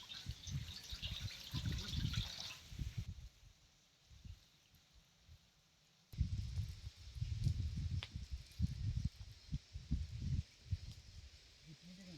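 Hot water pours and sloshes into a pan of country chicken curry in uneven bursts, pauses briefly, then splashes again, close by, outdoors over a wood-fired stove.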